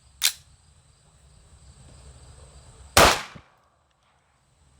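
A Sig P211 pistol loaded with New Republic ammunition fires two sharp, loud reports about three seconds apart, with quiet outdoor ambience and a faint steady hum between them.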